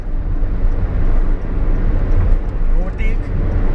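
Cabin noise from a car overtaking on an Indian highway, a loud steady road and engine roar throughout with a brief whine near the end, heard from inside the vehicle.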